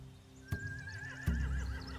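Horse in The Walking Dead video game, final season, gives a wavering whinny between two heavy thumps near a barn with hay, close and clear with no talk.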